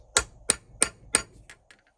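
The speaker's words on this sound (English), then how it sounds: "Take a punch that I have ground the tip off of. It goes in there. And then we take the hammer" Four sharp metallic hammer strikes on a punch set against a rivet land at a steady pace, followed by a couple of lighter taps, close and clear in a quiet room.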